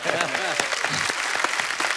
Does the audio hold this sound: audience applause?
yes